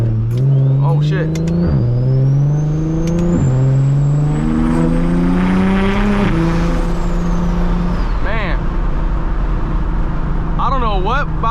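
Single-turbo BMW 335is revving through repeated gear pulls, each rise ending in a sharp turbo blow-off valve whoosh and chatter, loud and close, with people talking over it.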